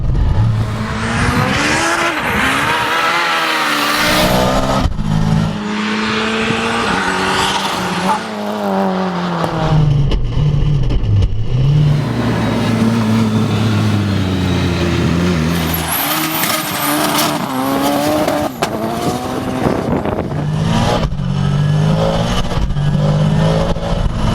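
Ford Escort Cosworth tuned to around 600 hp, a road-registered car, revs hard and accelerates with loud, rising and falling engine notes, gear changes and tire squeal, close and continuous throughout.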